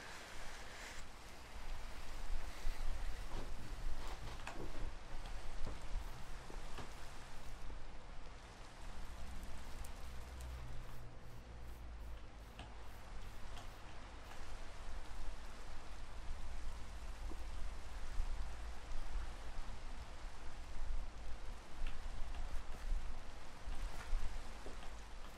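Steady rain falls at night in a video game, a continuous even hiss with scattered droplet detail, moderately loud and unbroken, with no talk over it.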